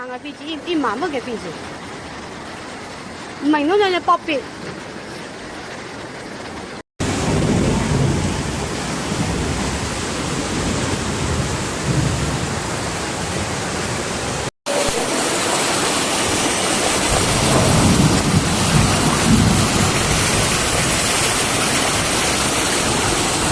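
Heavy rain pours down during a flood in Guangdong, China, a loud, dense roar of rainfall with deep rumbles of thunder, running through several back-to-back scenes.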